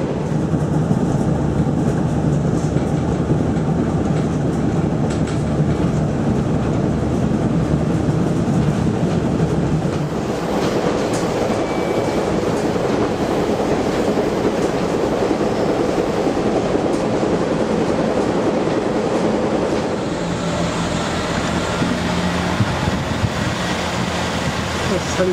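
Steady rumble of a train running along the railway line from Leeds toward Heysham Port via Morecambe on the Bentham line, a continuous rolling drone with no talk over it and a slight shift in tone partway through.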